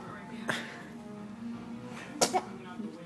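A person's sneeze bursts out loudly during a cooking contest countdown, followed by a quicker pair of sneezes, over a steady low hum and background voices.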